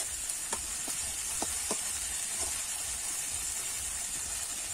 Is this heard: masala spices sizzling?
yes